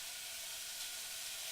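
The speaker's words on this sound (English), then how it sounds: "So here's the simmer fry thing going on." A pan of hearty winter soup simmers and fries with a soft, steady sizzling hiss, faint and unbroken throughout, with no voices.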